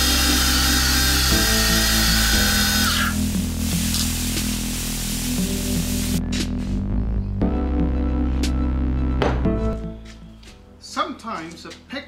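Milling machine cutting a motor housing on an X2 mill CNC conversion, with an air blast cooling the material and tool; a loud, steady, near whine carries through most of the clip, then drops away to quieter workshop clatter.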